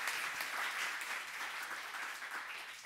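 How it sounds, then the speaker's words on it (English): Seminar audience gives a warm round of applause for a panelist, a brief, fairly soft burst of many hands clapping that stays even and slowly eases off. "so we give a warm applause"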